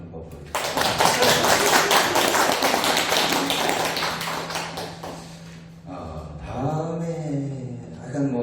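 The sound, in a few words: audience applause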